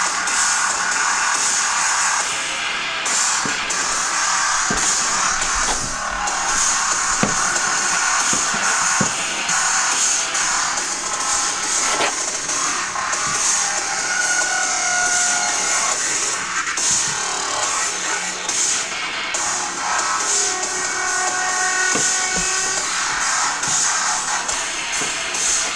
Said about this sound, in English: Alright, so we're sanding down the Bondo right now.